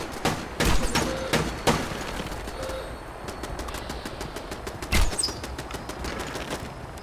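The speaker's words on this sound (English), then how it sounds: "the turrets always aggro these things even if they're not red. And they start shooting back." Automated turrets at a base in Fallout 76 firing in rapid bursts of gunfire, with sharp loud volleys punctuating a steady din of shooting and combat noise throughout.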